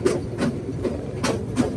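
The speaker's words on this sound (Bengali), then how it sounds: "ট্রেন ছেড়ে দিয়েছে হাসপাতালে থেকে" A train pulling out of a station in Sri Lanka during heavy rain gives a run of regular, fairly close rail clacks, about two or three a second, over a low rumbling background.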